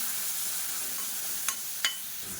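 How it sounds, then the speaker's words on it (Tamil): Green chili, garlic and crushed shallots being sautéed in a pan over a medium flame, a soft steady sizzle broken by two sharp clicks of a stirring spoon. "மீடியமான ஃப்ளேமில் எல்லாத்தையும் நல்லா வதக்கிக்கலாம்."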